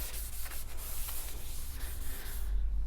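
Continuous broadband hiss of a spray gun laying 2K primer over a flat, prepared Austin Rover Metro body panel, steady and close throughout without a break, ending in a lighter tail with no talk.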